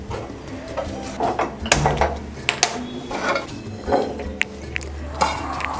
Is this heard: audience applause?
no